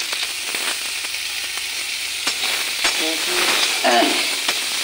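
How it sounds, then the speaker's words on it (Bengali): Steady frying sizzle of spiced red lentils with salt and turmeric in a pan, with occasional scraping and stirring clicks, close and fairly loud, no one talking. "এখন ভালো করে ভাজা করে নিই"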